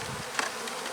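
Honeybees swarm and buzz densely on a moldy honey frame pulled from a hive, a close, continuous drone with a brief louder swell.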